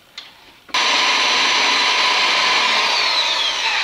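After a short quiet moment with a small click, a power drill with a dull bit spins up abruptly and whirs loudly and steadily until the end, drilling a test hole.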